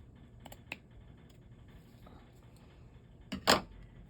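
Scissors snip paper for a junk journal in a quiet room, with a few faint clicks early on and then one louder, close cutting stroke near the end.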